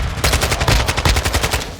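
Loud, close bursts of rapid automatic gunfire crackle in quick succession during a match of the video game Warzone 2.0, with no pause over the short stretch.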